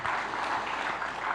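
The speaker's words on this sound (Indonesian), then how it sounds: "Berikan tepuk tangan bagi Tuhan." Congregation applauding during a church worship service, a dense, continuous patter of many hands clapping at moderate volume throughout.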